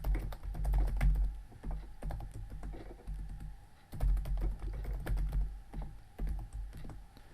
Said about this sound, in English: So I'm just going to type my new password in.